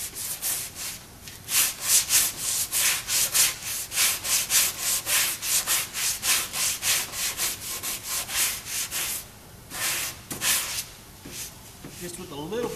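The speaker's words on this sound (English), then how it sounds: "So we're just going to cross sand this just a little bit." Rhythmic back-and-forth cross sanding on a car body panel, rasping strokes repeating steadily, close and loud, pausing briefly near the end.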